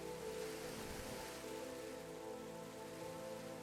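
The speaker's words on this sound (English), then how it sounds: "A gentle rain." Gentle rain falls as a soft, steady patter of drops on surfaces, faint and even throughout, with no voices.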